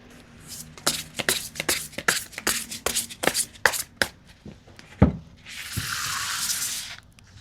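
Tarot cards are shuffled by hand in a run of crisp, quick riffling snaps, then a brief soft hiss follows near the end, with no voices.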